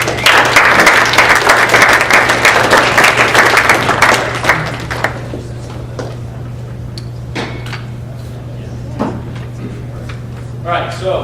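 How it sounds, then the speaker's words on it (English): A live audience at a college fraternity event gives a round of applause, loud dense clapping for about five seconds that fades into scattered claps and room noise. "So let's give them a round of applause."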